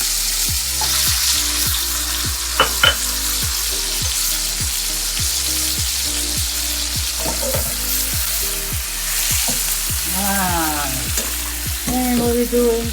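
Pork steak sizzles steadily in a pan for a green peppercorn pan sauce, with a continuous loud fry and regular scraping strokes throughout. A brief spoken remark and a few sharp clinks come near the end.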